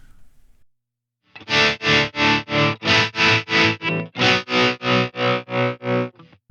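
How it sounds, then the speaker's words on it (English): A distorted electric guitar chord through a Line 6 Helix, tremolo placed before overdrive, pulses on and off in steady, choppy tremolo beats, about a dozen even throbs after a brief quiet start. "Have our tremolo in front of the drive."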